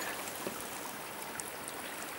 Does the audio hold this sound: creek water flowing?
yes